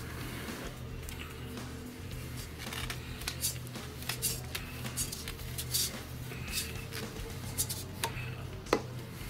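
Sandpaper rubbed by hand against a plastic pipe, a steady dry scratching broken by quick sharp strokes, close and fairly quiet with no talking.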